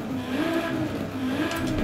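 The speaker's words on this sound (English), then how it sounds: "Oh my god, this exhaust sounds incredible." A Mazda MX5 exhaust in the racing game Forza Horizon: a steady, droning engine note that rises and falls slightly in pitch for under two seconds, fairly prominent throughout.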